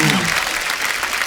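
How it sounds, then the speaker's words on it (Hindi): Crowd at a live show breaks into loud, dense applause, a thick wash of clapping that fills the moment without pause. "इनकी हिम्मत के लिए एक बार जोरदार तालियां"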